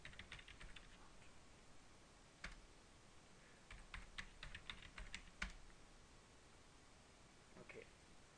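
Password being typed on a computer keyboard during a Nagios admin setup, with scattered light key clicks in short bursts, faint and close over a steady hiss.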